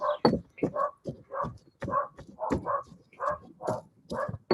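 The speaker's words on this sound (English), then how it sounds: "it's my dogs" Two Dachshunds bark in a rapid run of sharp yelps mixed with whimpers, close by and fairly loud, in a regular burst-and-pause rhythm.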